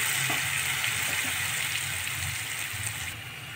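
Masala paste for a soya chunks curry fries in oil in a pan, a steady close sizzle running throughout with a low background hum and no talking.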